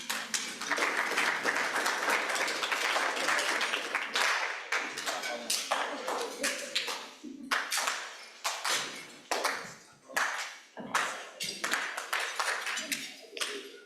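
A Rotary club audience applauds as a speaker is welcomed to the stage: a dense, close burst of clapping gives way to sparser, slower individual claps with gaps between them.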